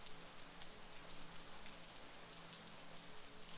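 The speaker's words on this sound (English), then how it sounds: "Rain is such a relaxing noise." Rain falling as a faint, steady, even hiss on surfaces, quiet and continuous with no voices.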